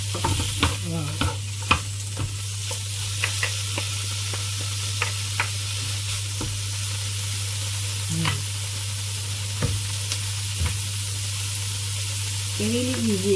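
Pork stir-fries in a hot pan for rice noodles, with a steady sizzle and frequent scraping stirs and clanks of the utensil against the pan, and a voice heard briefly.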